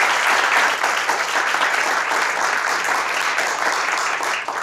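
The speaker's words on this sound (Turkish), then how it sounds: "Alkışlarınızla kendilerine biraz cesaret verelim" Sustained audience applause at a Turkish stage comedy show, dense and steady clapping from a large crowd, loud throughout with no talk over it.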